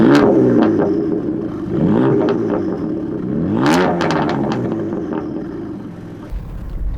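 BMW M3 twin-turbo inline six with cast downpipes and exhaust valves open in sport mode idles and blips loudly up close, the engine note rising and falling in a couple of revs before settling.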